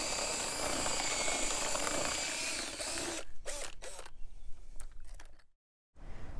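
An electric mixer whirs steadily as it beats fishing groundbait with water for feeder fishing, running loud for about three seconds before stopping, followed by scattered mechanical clicks and a brief silence.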